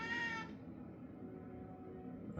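A house cat lets out one loud, drawn-out meow at the start, then falls quiet against a low indoor room hum.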